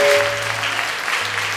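A congregation at a Sunday church celebration gives a strong burst of applause, loud and continuous through the brief moment.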